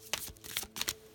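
Oracle-size tarot cards with gilded edges are riffled and shuffled in short, crisp bursts of papery slaps and flutters, close and clear with no talking.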